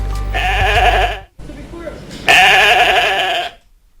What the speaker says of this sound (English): So this is Dolly the Sheep